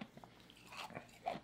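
Crunchy bite into a fried chicken strip at a cookout meal, a few close, quiet crisp crunches with light chewing and no talk.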